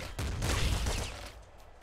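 Rapid Gatling Slugger gunfire in the top-down shooter game Nuclear Throne, a short dense burst of booming shots that fades out quickly, fairly quiet.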